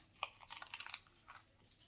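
Someone chews crunchy homemade stromboli with its crispy bread, giving close, quiet bursts of crackling bites and crunches.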